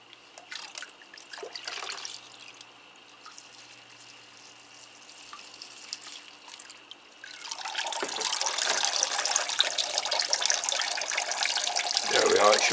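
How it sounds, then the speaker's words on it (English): Water pours onto potted orchid bark mix in a tub and drains through it, starting as faint dripping and trickling, then swelling into a steady, loud rush of running water that lasts to the end. "it shows the media's a nice light mix because all the water's running through"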